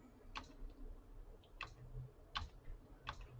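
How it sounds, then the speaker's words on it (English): The right arrow key on a computer keyboard is pressed four times at a steady pace, each press a faint, close tick over a low background hum. "I'm hitting the right arrow key on the keyboard here"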